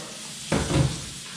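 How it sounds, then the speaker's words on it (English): Cool tap water runs in a steady hiss over small cleaned bass fillets in a kitchen sink, with a brief louder splash and clatter midway as the fish are handled, fairly faint and without talk. "We're gonna go ahead and rinse them. Cool water."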